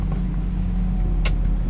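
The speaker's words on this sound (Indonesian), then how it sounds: "lalu kita hidupin mesin" A Toyota Rush engine idles steadily just after starting, a low even hum close by, with a brief sharp click near the end.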